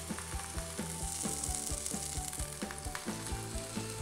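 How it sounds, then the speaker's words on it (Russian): A burger patty sizzles loudly in a hot pan, a steady crackling hiss with occasional stirring clinks, close and continuous with no voices. "Пусть жарится до корочки."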